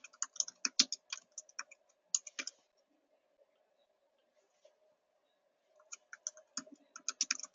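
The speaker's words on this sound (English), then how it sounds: "I'm just going to type in a bunch of different procedures that I could do." Typing on a computer keyboard: quick, close bursts of light key clicks, a pause of several seconds, then another rapid flurry of keystrokes in a quiet room.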